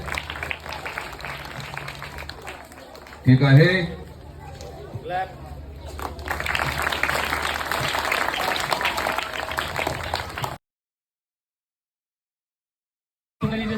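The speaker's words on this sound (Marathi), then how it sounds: "सर्वांनी जोरात टाळ्या वाजवायच्या आहेत" An audience claps during a school prize presentation, dense clapping building after a short spoken phrase and a sharp burst, then running steadily for several seconds before cutting to silence, with voices mixed in.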